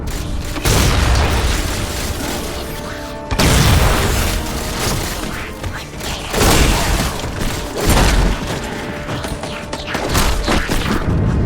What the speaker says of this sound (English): Assuming they don't raise them, that missile's gonna be one heck of a surprise.